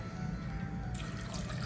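Water pours faintly into a cooking pot while Kerala pulinkari is being made, a soft, quiet liquid splash and trickle that grows brighter partway through.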